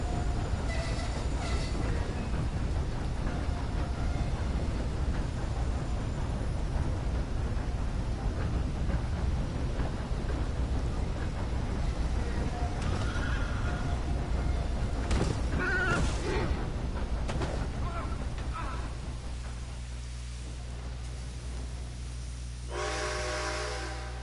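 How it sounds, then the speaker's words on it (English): Steam train rolling along in Red Dead Online, a steady loud rumble of rail noise with hissing, a brief whistle-like tone partway through, and the clatter settling into a lower hum near the end. "Yeah, I'm not driving this train. I'm just a passenger."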